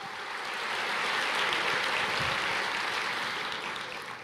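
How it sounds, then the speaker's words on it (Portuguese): A church congregation applauds the Lord: a dense, even roar of many hands clapping that swells gently and then eases slightly, heard at a distance, with no talk over it. "Você pode aplaudir o Senhor, aplauda o Senhor."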